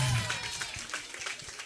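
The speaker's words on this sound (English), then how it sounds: "Clap for Embu." Audience at a university moot court competition and symposium clapping to welcome a visiting team, brief scattered applause with crowd noise and some talk mixed in.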